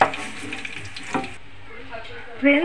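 Eggs coated with turmeric fry in hot oil, giving a steady close sizzle with a brief clatter near the middle and a louder burst of activity at the end.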